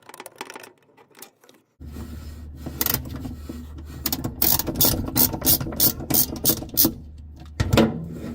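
A ratchet turning out 10mm bolts from the shifter of a GE stacked washer dryer, rapid clicking pawl bursts repeated in quick strokes, close and loud with brief pauses.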